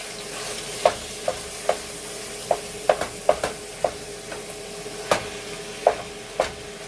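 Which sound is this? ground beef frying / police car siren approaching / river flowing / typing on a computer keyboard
ground beef frying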